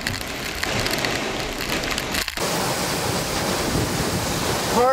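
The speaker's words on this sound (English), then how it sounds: "Strong straight line wind." Strong straight-line wind roars steadily through a severe thunderstorm, a loud, broad rushing noise that fills the whole clip with only a brief dip midway, with no talking.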